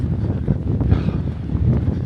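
Strong wind buffets the microphone outdoors in a steady, rumbling roar with gusty swells, loud and close, no voices.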